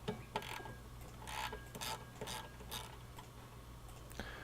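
A 15mm windshield wiper retaining nut being loosened on a Ford F150, quiet clicking ratchet strokes in short bursts, close and faint against a low steady hum.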